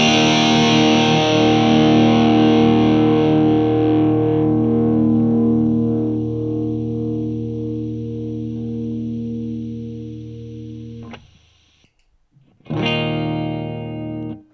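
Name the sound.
electric guitar through PedalPalFX PAL800 V4 overdrive pedal, Marshall-style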